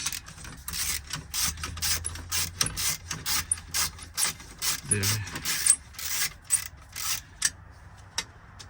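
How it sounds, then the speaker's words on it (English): A hand ratchet works a bolt on a Kenworth T680 steering wheel, giving close, quick bursts of clicking strokes with short pauses between them and a faint voice underneath. "Thinking this steering wheel should come off fairly easy once I get this bolt off here"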